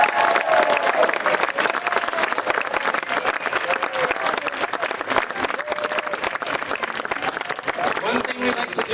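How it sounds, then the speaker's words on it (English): Crowd cheering and applause at a House of Ukraine gathering, sustained dense clapping with whoops and raised voices throughout, fairly loud and continuous. "So let's give them a big round of applause."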